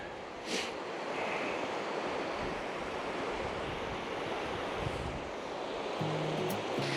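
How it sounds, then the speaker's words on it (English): A small waterfall near Agness, Oregon, heard as a steady broad rushing roar from a distance, mixed with light wind buffeting. "Little waterfall down there."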